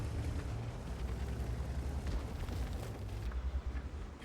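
A deep, rumbling crash booms and roars continuously for a few seconds, like a structure collapsing in an explosion, as a building is destroyed in the tank video game World of Tanks.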